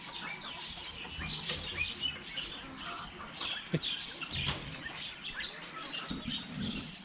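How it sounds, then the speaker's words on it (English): Birds chirp and tweet busily through an outdoor street scene near a café, with scattered short calls at moderate distance over a steady background murmur. "Seem very active, don't they, the birds today?"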